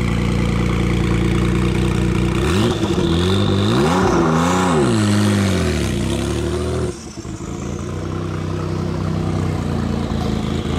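A loud car engine revs hard, its pitch climbing and wavering, then cuts off sharply before settling back into a steady, rumbling idle.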